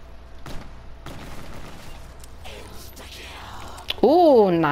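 Call of Duty Shadows of Evil zombies mode: sharp bursts of in-game gunfire crack out at irregular intervals, punctuated by a louder game sound near the end, while a player talks over the action.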